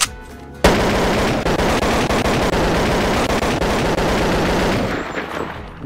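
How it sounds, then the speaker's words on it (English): An AK rifle in the Bonelab virtual reality game fires one continuous loud automatic burst lasting about five seconds, rapid and dense, then cuts off abruptly with a brief tail. "Then we got the classic AK."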